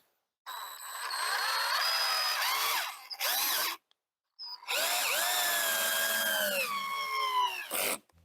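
A power drill fitted with a T15 bit drives a screw into a throwing target, sounding as close, loud bursts of whining motor that rise and fall in pitch, with brief pauses between runs.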